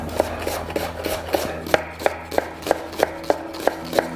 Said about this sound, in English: So we're starting off with 1 whole onion that I'm just going to literally cut in half and just slice